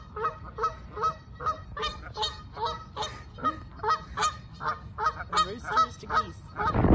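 A flock of geese honking repeatedly and loudly, calls overlapping in a steady, chattering rhythm, with a louder rustle near the end.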